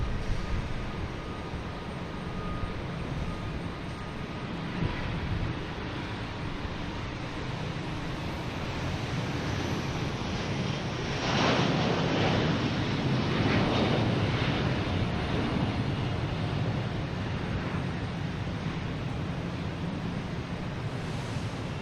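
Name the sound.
airliner flying at Boston Logan Airport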